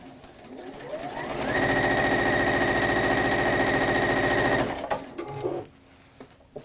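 A sewing machine chain pieces fabric, building to a fast steady mechanical hum with rhythmic needle clatter for a few seconds before stopping abruptly; close and loud, followed by faint handling noises.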